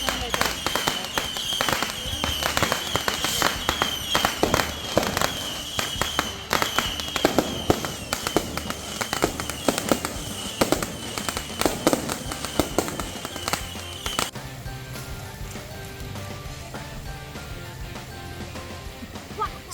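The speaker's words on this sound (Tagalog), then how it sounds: "nagpa-fireworks sila and almost 20 minutes yung fireworks na to." Rapid bursts of fireworks crackle and bang in quick succession, loud and dense, at a campsite in Tanay, Rizal, then cut off to a quieter background hum.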